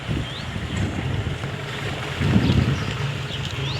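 Strong wind gusts through mango trees in an orchard. The broadband rush runs steadily for the whole stretch, swells loudest about two-thirds of the way through, and plays alone with no one talking.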